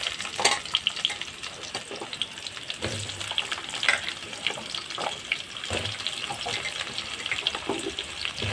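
Cut potatoes fry in a pan of oil with bay leaf and cumin tempering, a continuous close sizzle broken by scraping stirs and clinks of a spatula, with no one speaking.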